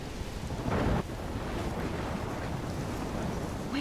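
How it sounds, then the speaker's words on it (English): Storm wind roaring over crashing ocean waves in the Life Is Strange game, a steady, loud, broadband rush with a brief heavier gust or surge near the start, no voices. "I'm trapped in a storm?"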